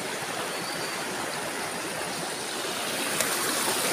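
A river flows steadily in a broadband rush, with the water rising slightly louder toward the end; no voices are heard over it.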